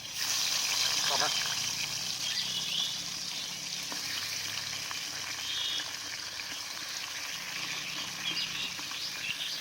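Pieces of fish sizzle and spit steadily in hot oil in a pan, a continuous close frying hiss with someone talking over it.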